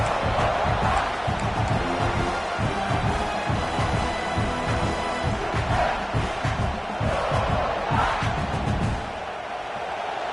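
Football stadium crowd roaring loudly to keep the opposing offense pinned deep in its own end, a sustained, thick wall of cheering and yelling with rhythmic surges, easing slightly at the end.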